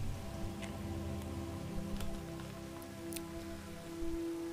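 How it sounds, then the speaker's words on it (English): Steady rain falls in the video game Skyrim, a continuous soft patter of drops with scattered ticks, at an even moderate level and without any talking. "it's finally done raining."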